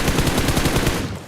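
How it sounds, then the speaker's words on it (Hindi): Rapid automatic gunfire in the BGMI battle royale game rattles out as a fast, loud, evenly spaced burst of about a dozen shots, then cuts off. "देखो ये लोग गोली गोली चला रहे मेरे पे"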